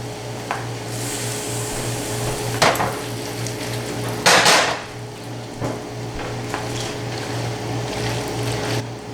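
Pasta tossed in a hot pan to pick up the leftover flavor, with a few sharp clanks and scrapes of the pan over a steady kitchen hum and a low sizzle, no talking.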